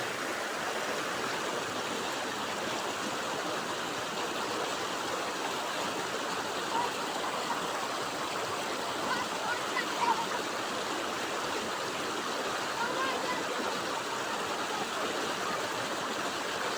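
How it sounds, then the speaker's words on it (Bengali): Floodwater rushes toward villages in the Paru Gaon Nali Bari area, a steady broadband roar of turbulent water like a stream or waterfall, continuous and fairly close throughout with no speech. "জলের ভয়ঙ্কর রূপ কিভাবে আওয়াজ করে জল গ্রামগুলোর দিকে প্রবেশ করছে আপনারা দেখুন"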